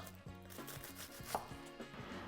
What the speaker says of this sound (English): I'm making these chops very small because I want my onion to pretty much disappear into my sauce